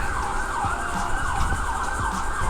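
An emergency vehicle siren wails in a steady rising and falling cycle on a hot day near West Palm Beach beaches. It sounds fairly distant behind broad traffic and street noise.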